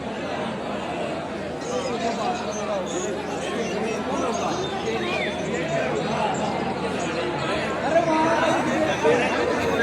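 A dense crowd of pilgrims chatters at an evening aarti in the Omkareshwar temple, a continuous babble of many overlapping voices that holds at an even, fairly loud level throughout.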